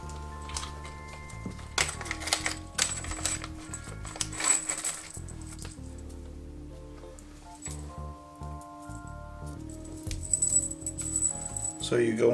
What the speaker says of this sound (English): So you go into your baggie where there's screws.